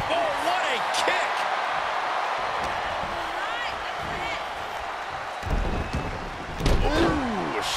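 Thudding kick impacts from a women's wrestling match in WWE 2K23, landing among crowd noise with commentary talk over the top, a sharper hit standing out near the end.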